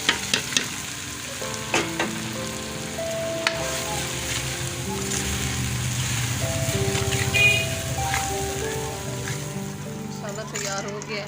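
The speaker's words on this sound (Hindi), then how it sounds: "ये सब्ज़ मिर्ची का पेस्ट शामिल कर रही हूँ। ये सारे मसाले शामिल कर रही हूँ।" Green chilli paste and spices frying and being stirred in a pan for chicken feet curry, with a continuous sizzle, spoon clinks and scrapes, and someone talking over the cooking.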